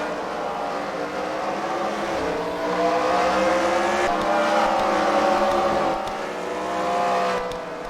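Race cars battling wheel to wheel at a Freedom Factory fight-night race, their engines roaring loudly and continuously with rising and falling revs as they surge past close by.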